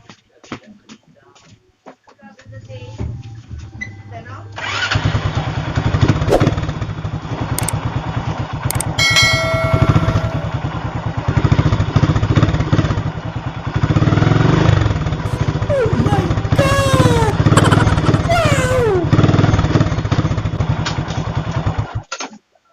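Idling motorcycle with a loose, wobbly swing arm, a steady close engine chug with clattering knocks as the rear end is rocked, carrying on throughout after a quiet start.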